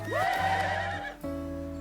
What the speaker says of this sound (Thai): เราสร้างม้าเพิ่มดีกว่า